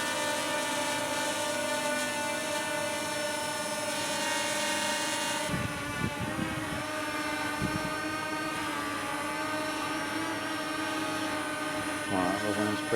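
A hovering drone holds steady outdoors, its propellers producing a continuous multi-toned whine with stable harmonics, joined by brief low thumps of wind buffeting partway through; no one speaks.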